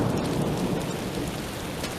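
Steady rain falling with low rumbling thunder from a rain cloud, a continuous dense wash of sound at constant loudness with no voices.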